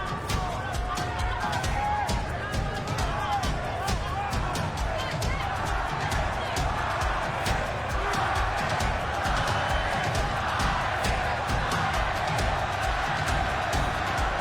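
Mixed Mexican and Filipino crowd cheering at the Pacquiao vs Marquez boxing fight, a constant loud roar of voices with steady rhythmic thumping beneath, a commentator talking over it.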